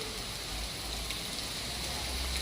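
Steady heavy rain pouring down outdoors in Phaltan, a dense continuous hiss of falling water with a low rumble and no voices.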